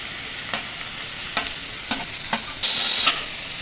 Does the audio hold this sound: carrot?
yes